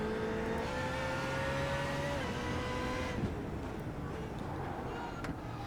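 Race car in the iRacing sim at Okayama accelerating, a loud, steady engine note climbing in pitch, then dropping abruptly at a gearshift or lift before carrying on, heard under a continuous broadcast-style background.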